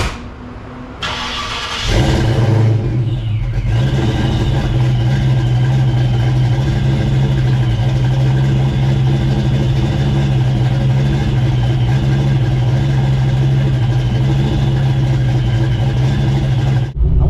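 A car engine cranks and catches at the start, then runs loud and steady for the rest of the stretch, a continuous close mechanical drone with slight shifts in pitch as it idles and pulls away.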